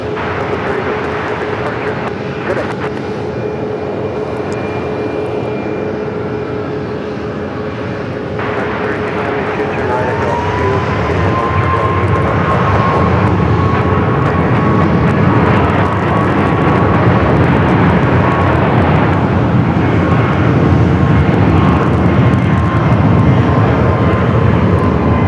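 An Airbus A321neo jet rolls down runway 25 right at Phoenix Sky Harbor, its engine roar building into a loud, steady rumble with a rising whine as it accelerates, with no talk.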